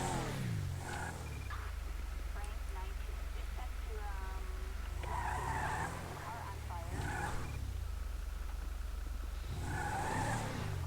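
Car in a video game revs and accelerates in repeated surging bursts, engine tones swelling and fading several times, with faint squeals and game sounds between.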